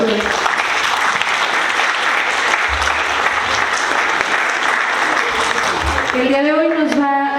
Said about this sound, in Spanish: Un aplauso por favor para la doctora.